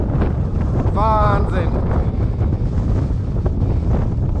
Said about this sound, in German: Der Wind kommt knallhart von vorne.